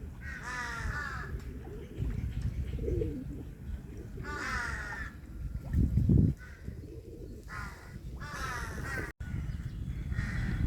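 Crows caw repeatedly in harsh bursts at moderate distance beside a large city lake, with faint chirps and outdoor ambience between calls.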